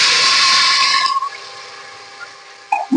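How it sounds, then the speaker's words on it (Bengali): Ground cumin, dried chilli and turmeric hit hot oil with a loud, sharp burst of hissing that dies away after about a second, leaving quiet crackling and a small clink at the end. "এই মশলাটা আমি তেলের মধ্যে দিয়ে দেবো।"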